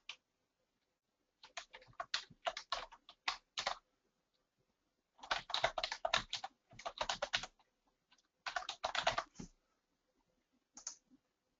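Someone types an email address and a long password on a computer keyboard, in several close bursts of quick clicking keystrokes separated by quiet pauses, ending with a couple of single taps.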